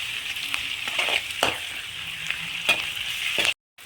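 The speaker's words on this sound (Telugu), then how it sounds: "కొంచెం కరివేపాకు వేసుకొని ఫ్రై చేసుకోవాలి" Curry leaves and ginger garlic paste fry in a hot pan for a semiya biryani, a steady close sizzle with a few stirring scrapes and pops, ending abruptly, with no speech.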